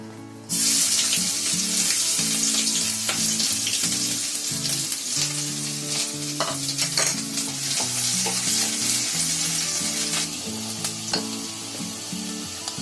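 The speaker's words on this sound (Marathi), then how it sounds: "आलं लसूण बघा तिकडे चांगली फ्राय होते" Finely chopped ginger and garlic fry in hot oil in a kadai, a loud bright sizzle that starts abruptly and holds steady, with spatula clinks and stirring taps throughout and a low hum beneath.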